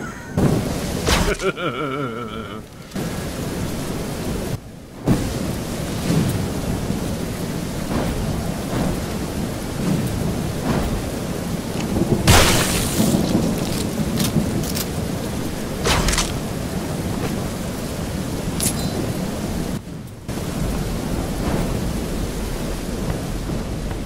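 Steady video game rain pours throughout with several loud thunder cracks and rumbles, one sharp clap standing out midway; no talking.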